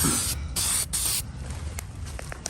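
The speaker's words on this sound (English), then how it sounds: "I'm going to paint it, with Rust-Oleum hammered black to match the black that was on it" Rust-Oleum hammered black spray paint hissing from an aerosol can onto a 1950s Sears Dunlap drill press, two loud close bursts, then a quieter workshop background with small clicks.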